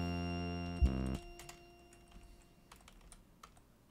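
Keys on a computer keyboard click in scattered, fairly faint taps, following a brief synthesized tone at the start.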